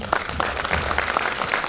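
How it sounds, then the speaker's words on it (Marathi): A ceremony audience claps loudly together, dense sustained applause from a crowd throughout, close and steady. "तुमचा हात द्या आणि जोरदार टाळ्या वाजवा"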